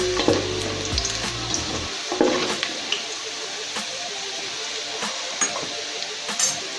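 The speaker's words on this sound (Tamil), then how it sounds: "ஒரு நிமிஷம் பூண்டு ஃப்ரை ஆனால் போதும்." Garlic fries in a pan with a steady, close sizzle and hiss throughout, broken by a low clunk at the start and occasional light taps of a stirring utensil, with no talking.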